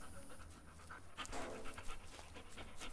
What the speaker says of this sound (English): I don't know what my dog's doing